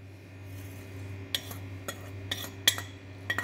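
A spoon clinks against a bowl while salt, black pepper and cumin are mixed into yogurt, giving a few sharp metallic taps spaced irregularly over a quiet, steady background hum.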